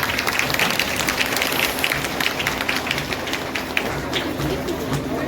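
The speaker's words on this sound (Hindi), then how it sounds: "इनके स्वागत में तालियों की गड़गड़ाहट से इनका उत्साह वर्धन है।" Dense, continuous applause from a crowd welcoming platoons at a CRPF parade in Rajgir, Bihar, fairly loud and steady from start to finish.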